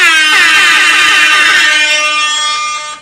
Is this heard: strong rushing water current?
no